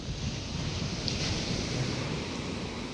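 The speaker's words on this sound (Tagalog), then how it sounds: "Ito kami sa dagat." Sea waves rolling onto a beach, a steady broad wash of surf with wind buffeting the microphone, continuous and fairly loud with no talking.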